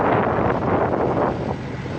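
Steady wind buffets the microphone beside parked buses on a London street, producing a constant low rumbling roar with no voices.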